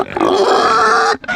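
Several pigs grunt and snort close by while eating feed, a dense continuous run of grunts that stops briefly near the end before resuming.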